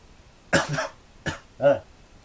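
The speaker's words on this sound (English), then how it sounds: "Something happened in my throat that I had to cough it out." Three short, close coughs in a row, the first hoarse and rasping, the last more voiced and throaty, with quiet pauses between them.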